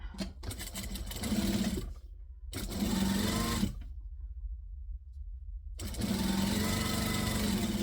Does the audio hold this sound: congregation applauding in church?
no